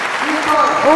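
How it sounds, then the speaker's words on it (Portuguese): A church congregation bursts into applause in praise, dense clapping building slightly louder toward the end, with voices calling out over it. "vamos ficar em pé e dar uma salva de palmas ao nosso Deus"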